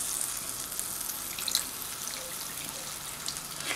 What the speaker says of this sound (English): add some water and let it reduce